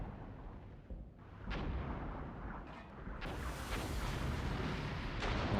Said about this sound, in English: Enemy has a lot of artillery.